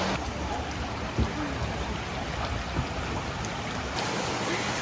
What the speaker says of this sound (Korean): 아, 여기 폭포가 있어요.